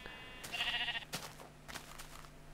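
A sheep bleating in Minecraft, one short quavering bleat up close over a quiet background, followed by a few faint clattering game sounds.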